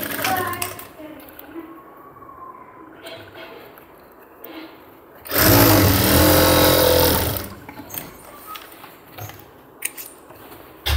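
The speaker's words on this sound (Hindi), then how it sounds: "फ्लाई में हम डबल सिलाई देंगे।" A sewing machine runs one loud burst of about two seconds while double-stitching the fly of cargo half pants, with quieter shuffling and handling sounds and some background voices around it.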